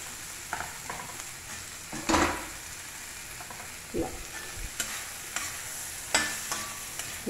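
Onions and vegetables sizzle steadily in a pan for bitter gourd curry, with a spoon scraping and stirring in occasional bursts, close and fairly quiet.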